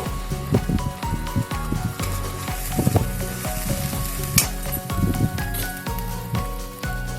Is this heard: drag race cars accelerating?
no